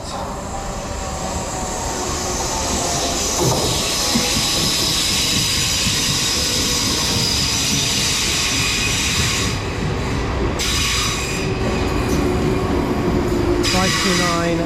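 A South Western Railway Class 458 electric train rolls in with a steady roar and rumble, faint wheel squeals and hissing brakes as it slows at the platform.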